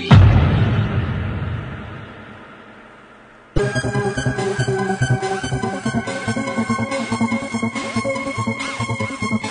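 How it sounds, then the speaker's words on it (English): A heavy boom with a long decaying rumble, followed by a dense, sustained, loud wash of crackling, ringing noise that continues to the end. "This is the sound of the atom splitting."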